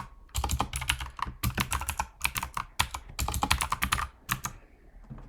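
Rapid keystrokes on a computer keyboard as code is typed, loud and close, in irregular bursts with brief pauses between runs of clicks, no talking.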